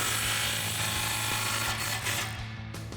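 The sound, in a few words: ratchet with 15 socket tightening exhaust clamp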